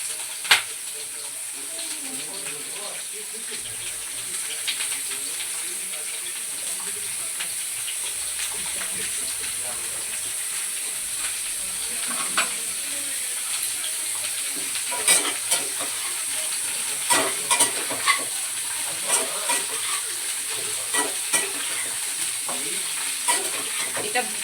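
Drumsticks (sojne data) fry in hot oil in a wok, giving a continuous hissing sizzle with occasional sharp clinks and scrapes of stirring, close and moderately loud throughout.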